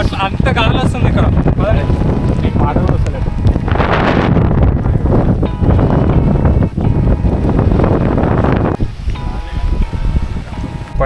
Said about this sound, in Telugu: గాలికి నేను ఎగిరిపోయేలా అంత గాలి వస్తుంది ఇక్కడ